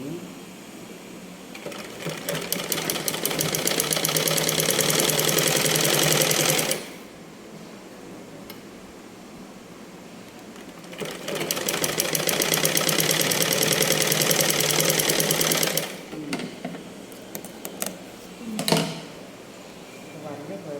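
Sewing machine stitching panties runs in two long steady bursts with a short whir near the end, loud and close with quiet gaps between runs.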